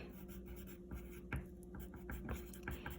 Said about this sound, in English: first thing you always do is write your name.